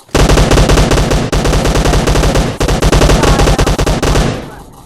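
Automatic gunfire on the Livik map in PUBG Mobile, with long, dense bursts of rapid shots that are very loud and close, broken by brief gaps and then tapering off at the end.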